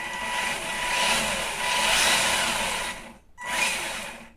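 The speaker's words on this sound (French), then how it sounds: "Et le moteur, donc, qui semble bien fonctionner." The small electric motor of a Tamiya Neo Fighter RC buggy whines at high speed, swelling and easing, then cuts out briefly before spinning up again.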